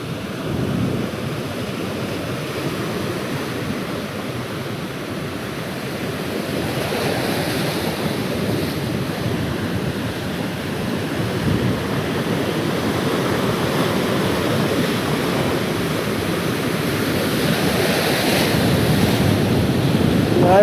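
Stormy sea surf and strong wind at a fishing spot, a loud continuous roar of breaking waves with wind buffeting the microphone, swelling toward the end.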